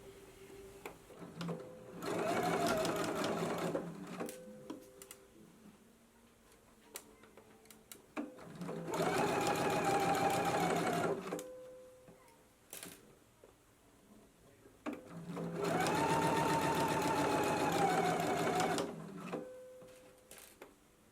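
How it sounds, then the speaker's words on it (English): A sewing machine stitches a bias tape seam at a 5/8 inch allowance on a shirred summer dress, running in three steady bursts of a few seconds each with pauses and small clicks between, close and clear without voices. "let's head to the sewing machine and we can go ahead and stitch right along this crease at a 5/8 of an inch seam allowance"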